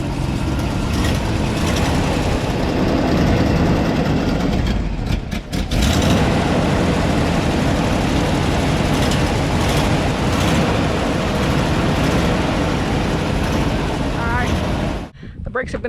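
An old 1975 Ford F500 bucket truck engine rumbles loudly and steadily throughout, with a few sharp clanks near the start and a brief dip near the end.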